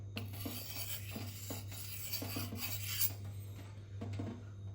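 A kitchen knife edge is rubbed on a 1K Gritomatic sharpening stone, making repeated rasping strokes in an even back-and-forth rhythm, close and fairly quiet over a low steady hum.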